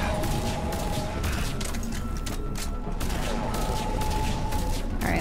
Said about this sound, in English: Are you being shot from over here?